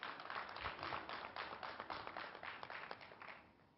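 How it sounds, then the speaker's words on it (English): Audience applause at a Manchester Chamber of Commerce business event, a steady, dense wash of many hands clapping that fades slightly toward the end, heard from a distance with no voices over it. "Let us give them a better round of applause"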